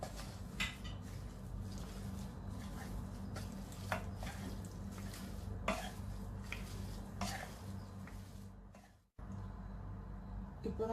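Chicken cutlet filling with garam masala is stirred in a pan, with scraping and clinking of a utensil against metal repeating irregularly over a low steady background, close and moderately loud.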